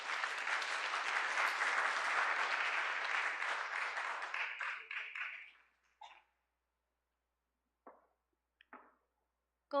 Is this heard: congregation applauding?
yes